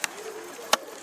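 A pigeon gives a soft low coo between two sharp clicks or flaps, close by and faint against quiet surroundings.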